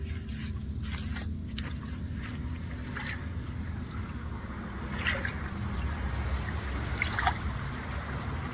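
A small toy boat is set onto water, with a gentle trickle and lapping over a steady low background and a couple of soft splashes toward the end.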